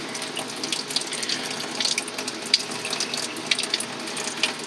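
Water draining through a reef tank auto top off system, a steady trickle and splash close by, with faint clicking and gurgling, no voices.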